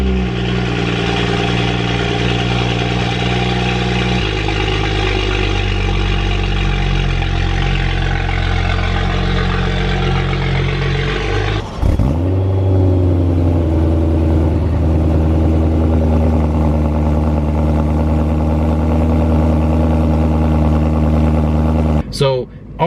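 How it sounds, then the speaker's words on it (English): A BMW E92 M3 with its naturally aspirated V8 runs steadily at idle with a deep, even hum, then a sudden blip shifts the tone partway through before a sharp cutoff near the end; close and loud throughout. "this one is a naturally aspirated V8"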